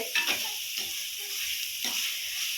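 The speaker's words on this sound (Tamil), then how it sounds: "அதனால் பூ போல கிண்டுறேன்." A spoon gently stirs chicken kulambu in a clay pot, giving soft scraping strokes in a few bursts over a steady background sizzle and hiss.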